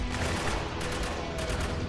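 Uzi gunfire from the video game Spec Ops: The Line, rapid bursts of automatic shots rattling loudly and continuously with a couple of sharper cracks.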